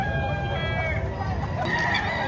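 A young rooster, about ten months old, crows loudly and close at a busy chicken market in Padre Garcia, Batangas, one sustained crow with faint background voices.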